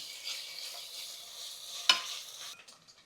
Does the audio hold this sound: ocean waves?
no